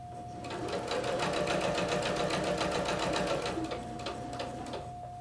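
A sewing machine stitches a sleeve for a McCall's 6696 sew-along, a steady fast mechanical whirr and rapid needle patter running close and continuously, easing slightly toward the end.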